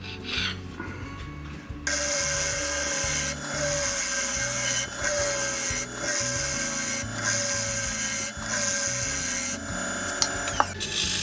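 A chisel cuts wood on a woodturning lathe in repeated close, loud scraping passes of about a second each, separated by brief pauses, after a quieter opening with the lathe running.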